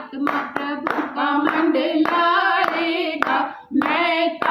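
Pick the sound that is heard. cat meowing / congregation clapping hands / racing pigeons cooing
congregation clapping hands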